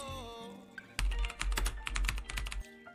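Fast clicking of computer keyboard keys as a verification code is entered, close and crisp in a quick irregular burst after a brief tonal hum.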